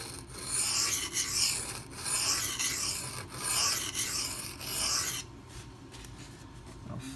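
A Microtech Socom Elite knife with a CTS-204P steel blade is sharpened in long, rhythmic rasping strokes for about five seconds, then the scraping stops and a quieter background remains.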